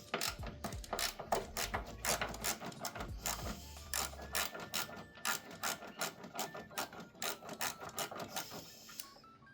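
Ratchet clicking rapidly and rhythmically as engine mount bolts are undone on an Alfa Giulietta, with close, crisp repeated pawl ticks in steady bursts and no voices.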